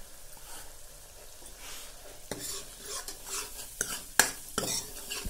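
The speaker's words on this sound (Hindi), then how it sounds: "और अब नमक डाल देंगे स्वाद अनुसार, और इसको मिक्स कर लेंगे हम।" A spoon stirs potato gravy with garlic paste and salt in a pan. Soft, continuous scraping grows busier toward the end, with a few sharper clinks against the metal and a faint sizzle underneath.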